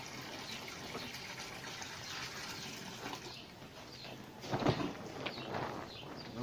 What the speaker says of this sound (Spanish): Les ponemos la leche.